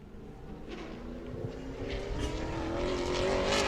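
A modified race car runs a qualifying lap at a speedway, its engine a steady distant drone that grows gradually louder and rises in pitch as it approaches, with no talk over it.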